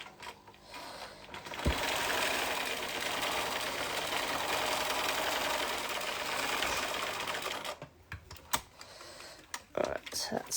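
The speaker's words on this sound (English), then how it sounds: "So now I will stitch my hem down." Home sewing machine stitching down a hem, a steady continuous whir running for about six seconds before stopping, followed by a few sparse clicks and handling sounds.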